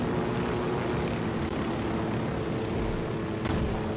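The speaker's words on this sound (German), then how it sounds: "versuche ihn mal mit dem Hubschrauber zu erwischen" A helicopter flies in the open-world shooter Ghost Recon Wildlands, producing a steady, dense rotor and engine roar that holds constant throughout, close and loud, with a brief sharp sound near the end.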